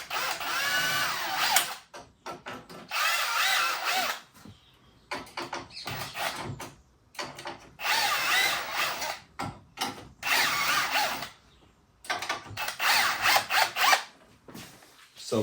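Power drill driving a Festool Centrotec self-centering bit into a table saw fence rail during assembly, several loud whirring bursts of a few seconds each separated by short pauses, close and alone.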